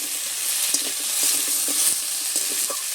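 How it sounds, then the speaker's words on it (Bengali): Long-cut potato strips sizzle in oil with ginger garlic paste, a bright, constant frying hiss broken by repeated scrapes and clicks of a spoon stirring in the pan. "আদা রসুন বাটাটা দিয়ে একটু নেড়ে চেড়ে নিয়েছি, এবারে দিয়ে দেবো আলু"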